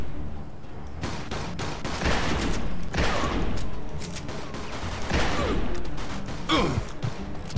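Gunfire rattles in Mafia II in dense bursts and volleys, loud and close. Sharp cracks pile up over a few seconds, with breathy gasps in the mix.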